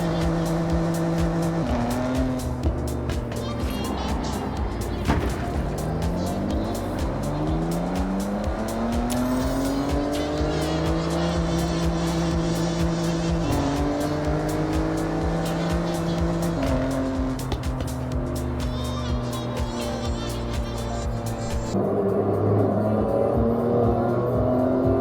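A race car in Forza Horizon climbing uphill in first gear, the engine droning and sweeping up and down through revs with tyre squeal, loud and continuous throughout, with a brief shift in tone near the end.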